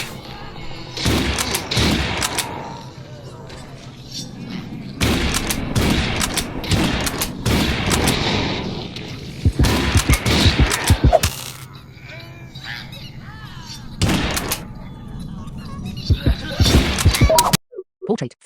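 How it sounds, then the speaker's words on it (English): Hunting rifle shots in the Audio Defense mobile game, sounding as sharp, loud single cracks spaced a few seconds apart over a steady game background, with synthetic spoken menu prompts between them. "Hunting rifle."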